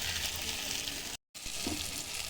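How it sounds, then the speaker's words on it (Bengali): Onion, green chili, tomato and ginger-garlic paste sizzle in hot oil for a rui fish curry, a steady close hiss and crackle that cuts out for a moment and then resumes. "তেলের মধ্যে পেঁয়াজ, কাঁচা লঙ্কা, টমেটো, আদা রসুন বাটা দিয়ে দিয়েছি"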